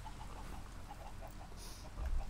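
Chickens in the Minecraft video game cluck softly in a loose, repeated series of short calls over faint background game ambience.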